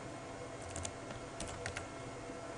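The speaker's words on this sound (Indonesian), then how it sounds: "Anda tinggal mengetikkan IP address dari router." Someone types on a computer keyboard, entering a router's IP address: a few quiet clusters of light key clicks over a steady hiss, fairly close, with no talking.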